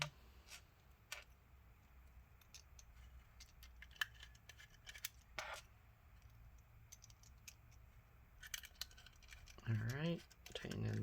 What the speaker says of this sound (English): Alright, tighten in the screws.